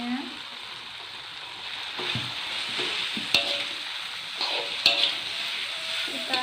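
Boiled noodles stir-fried in a pan give a steady, close sizzling hiss, broken by several sharp spatula scrapes and clinks as they are tossed, with no talking.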